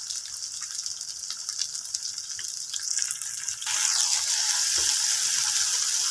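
Mustard paste frying in a pan for a hilsa curry, a steady close hiss and sizzle that grows louder and denser halfway through, with no talk.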